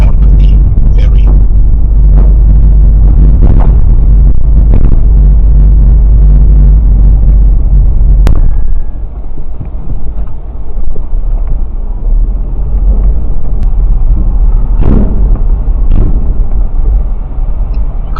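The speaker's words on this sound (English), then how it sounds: "This is the rear view of the moment I was driving onto the ferry." A car driving onto a ferry at Dunkirk, a loud low engine and road rumble with heavy wind buffeting the microphone, a sharp clank partway through, and a voice speaking at times.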